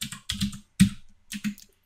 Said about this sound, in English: tab, and then tab again to continue, and then press enter to continue